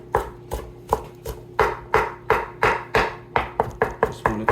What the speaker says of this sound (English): Chop this a little bit. It doesn't have to be fine chop. I really don't care if it's rough chop.